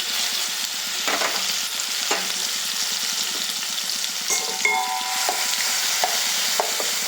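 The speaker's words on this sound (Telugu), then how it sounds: "కొంచెం నూనెలో అయితే కొంచెం ఫ్రై అయితే బాగుంటుంది" Ground green chili and coriander paste with curry leaves frying in a little oil for coriander kudumulu: a loud, close, continuous sizzle with intermittent scraping stirs of a spatula.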